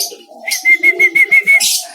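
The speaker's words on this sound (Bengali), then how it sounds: "আর এই বাকি পাখিগুলো আয় শান্তি" Pigeons coo at a village bird farm in a close, steady series of soft rhythmic calls, about six pulses in quick succession with a brighter chirp at the end.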